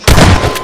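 A single loud gunshot from a gun in Garry's Mod, a Combine Alliance versus zombies game, with a sharp burst and a short rumbling tail, alone with no talk.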